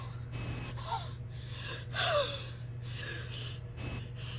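Deep breaths during a guided breathing session come as audible inhales and gasping intakes over a low steady hum, with one fuller, louder breath near the middle.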